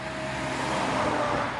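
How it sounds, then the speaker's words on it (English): Road traffic rushes past as a steady broadband roar, loud and continuous for a short stretch, with no voices over it. "we got traffic"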